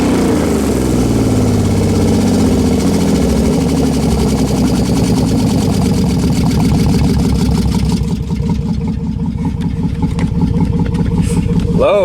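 A Dodge Magnum 3.5 L V6 stroker with big cams and ported heads and intake idles after its first start, a loud, lumpy, steady chugging up close that changes pitch and settles into a rougher rhythm partway through.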